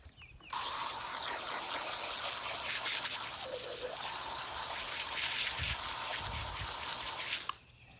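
Running water from a riverside rinse of a freshly gutted fish, a steady splashing stream that starts abruptly, holds constant and loud for about seven seconds, then cuts off.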